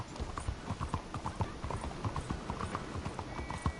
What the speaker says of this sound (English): Ooh, that's a nice horse.